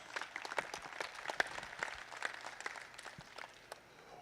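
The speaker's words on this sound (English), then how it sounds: "Please give Mr. McBurney and David Wallace and Roberta a nice round of applause" Scattered audience clapping for sponsors at a Kentucky State Fair heifer show, a light, uneven patter of hands in a large open venue, steady for several seconds without speech.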